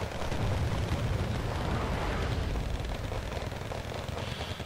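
Artillery shells land in a video game battle, heard as a steady, dense roar of distant rumbling blasts that blur together into a continuous low wash with no clear individual impacts.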